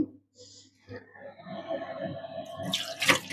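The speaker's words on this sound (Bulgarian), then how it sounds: "Добавяме съвсем малко вода към чашата, в която са ни били доматките." A small splash of water is poured into a cup that held tomatoes while cooking a quick oven-tray dish, ending in a brief trickling rush. A voice talks quietly alongside.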